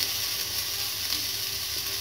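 Sambar ingredients frying in a pan, a continuous close sizzle with a steady hiss and no voices.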